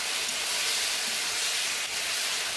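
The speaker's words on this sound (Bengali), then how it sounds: "এখন ঝোল দিয়ে দিব।" Broth poured into sautéed vegetables in a hot pan in a village kitchen sets off a loud, steady hissing sizzle that lasts throughout, close and alone.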